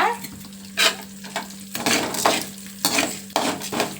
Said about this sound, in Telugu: ధనియాలు, ఆవాలు, జీలకర్ర, మినపప్పు ఇవి తర్వాత బాగా వేయించుకోవాలన్నమాట